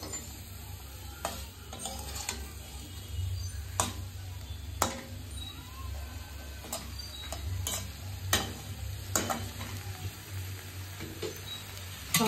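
Carrots frying in a pan for fried rice give a steady low sizzle, with sharp clicks and scrapes of a utensil stirring at irregular intervals.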